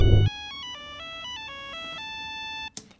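A melodic electronic phone ringtone plays in a film scene, a steady sequence of clean stepped tones alone for a few seconds after a brief low rumble, then cutting off with a short click.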